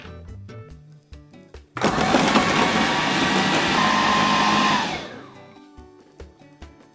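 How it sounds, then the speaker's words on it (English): Beetroot is processed in a food mixer: a loud, steady motor whir starts abruptly, runs for about three seconds, then winds down, with light clicks and knocks before and after. "we'll put the beetroot into the food mixer, and we mix the beetroot up first"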